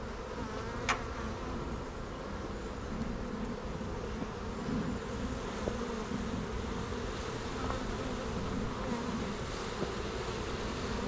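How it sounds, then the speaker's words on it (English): A steady, dense hum of many honey bees buzzing close by around a hive, continuous and even throughout with no talking. "Look at all the bees on my hands just chilling"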